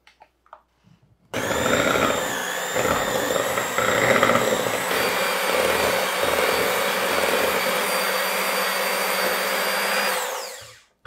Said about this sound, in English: now I'm going to take my mixer and I'm going to mix this all up